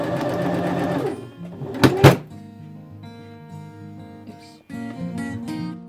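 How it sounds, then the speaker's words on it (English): A hand-turned sewing machine stitches a corset in a close, rhythmic run, broken by two sharp thunks as the needle meets stiff boning, then the stitching resumes. "I was careful passing the busk, hand-turning my machine, but I forgot to move the bones."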